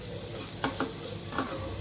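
Garlic, ginger and a masala of turmeric, chili powder and salt frying in a pan for beetroot bhaji, a steady close sizzle with a few brief stirring scrapes.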